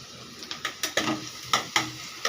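Green chillies sizzle in hot oil in a pan while a spatula stirs them in quick, repeated scraping strokes, several sharp stirs over a constant soft frying hiss, close and moderately quiet.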